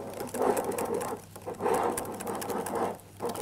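A whisk beats a caramel mixture in a bowl, giving rhythmic scraping and swishing strokes that rise and fall in three or four surges, close and fairly loud.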